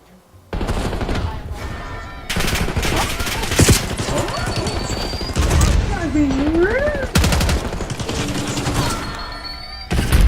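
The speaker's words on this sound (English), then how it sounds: "bombs and explosions. It's crazy." Bursts of gunfire and explosions from a Call of Duty Warzone match sound in loud clustered volleys with gaps between them, while a voice talks excitedly over the combat.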